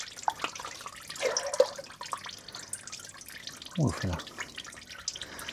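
Engine oil draining and dripping from a Porsche Boxster S 986 during a service, a soft trickle with scattered drips heard faintly under a man's brief speech.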